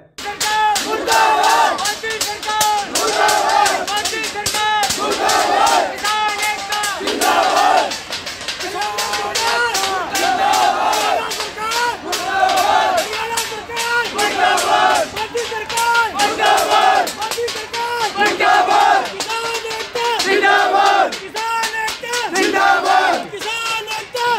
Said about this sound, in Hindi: ट्रैक्टर ट्राली पे महिलाएं बैठ करके ताली और थाली बजा रही है